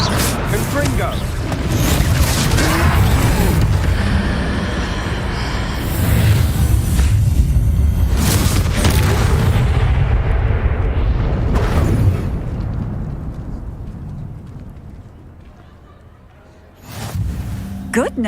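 In the video game Hogwarts Legacy, a Confringo explosive spell blasts during a troll fight, a loud rumbling boom and roaring burst that sustains, then decays, with a fresh impact near the end under game voices.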